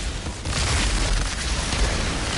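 Video game explosion with a heavy boom that rolls into a sustained rumbling blast, loud and dense for a couple of seconds, with no talk over it.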